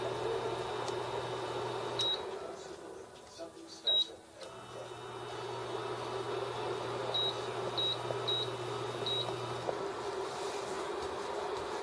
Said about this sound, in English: That's my toaster going off.